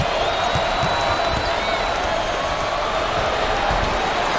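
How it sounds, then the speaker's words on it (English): A dense, roaring basketball arena crowd in NCAA Basketball 10 cheers steadily without break, a loud continuous wash of noise with faint sneaker squeaks and thumps mixed in. "Man, this crowd is intense, Coach."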